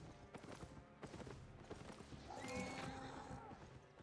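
A horse whinnies loudly amid rhythmic hoof clip-clops, with a faint voice in the background; the sound has a game-like, processed quality, from the video game Albion Online.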